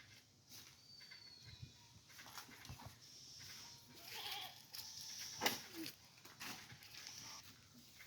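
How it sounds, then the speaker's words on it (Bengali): Goats bought at a market bleat intermittently while being fed freshly cut leaves outdoors, with faint background noise and no speech. "আজকে আমাদের ছাগল কিনা আনছে, এখন পাতা কাটা দিতেছে ছাগলকে"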